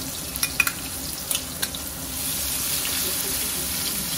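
Green onions go into a hot pan for a Nagpuri pigeon pea aamti. A few light clicks come first, then a steady, even sizzle of frying that holds to the end.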